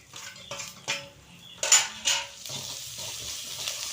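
Peanuts and chickpeas stirred in a frying pan, with metal spoon clinks and scrapes against the pan over a faint sizzle, several distinct knocks early then softer steady stirring, close, no talking.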